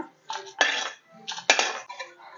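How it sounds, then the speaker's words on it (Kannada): Fried sprouts being scraped from a pan onto a plate in a home kitchen, a few sharp metallic clinks and scrapes of a spoon against cookware in quick bursts, close and clear with no talking. "ಇದನ್ನೊಂದು ಪ್ಲೇಟಿಗೆ ತಗೋಬಿಡೋಣ."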